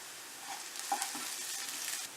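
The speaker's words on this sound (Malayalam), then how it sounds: "ഇത് നല്ലതായിട്ട് ഇളക്കാം" Onion, ginger and curry leaves with salt are stirred as they sauté in a pan, giving a soft, steady sizzle with faint scraping strokes, quiet and close, with no talk.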